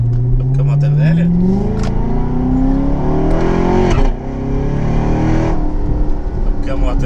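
An old motorcycle engine revs up close, its pitch rising and settling into a rough, steady drone, with people talking over it.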